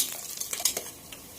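Onions frying and being stirred in a pressure cooker for chicken pulao, with spoon scrapes and light clinks against the metal pot over a soft background sizzle, close and fairly quiet.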